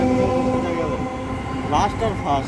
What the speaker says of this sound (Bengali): তো দেখতেই পাচ্ছ ট্রেন আমাদের ছেড়ে দিয়ে চলে গেল।